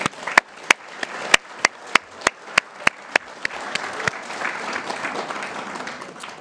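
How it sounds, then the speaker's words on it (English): An audience at the 2023 Kern Council of Governments awards applauds its staff, opening with a dozen evenly spaced sharp claps that swell into a sustained, full round of applause from many hands. "Let's give them a good round of applause."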